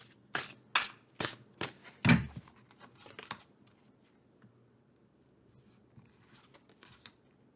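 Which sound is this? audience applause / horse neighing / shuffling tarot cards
shuffling tarot cards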